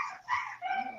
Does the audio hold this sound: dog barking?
yes